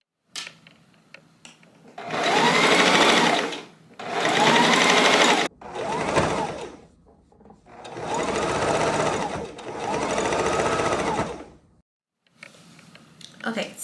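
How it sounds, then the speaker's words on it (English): Sewing machine top stitching down the middle of a robe belt, running in several loud sustained bursts with short pauses between them, close up and with no talking. "we're going to top stitch right here in the middle, and then the belt will be done"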